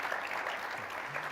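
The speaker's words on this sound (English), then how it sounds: "Let's give them all a huge round of applause." Audience applause at an international MICE industry summit, a steady wash of many hands clapping that fills the short moment at a consistent level.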